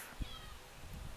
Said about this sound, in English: my other cat Chloe is meowing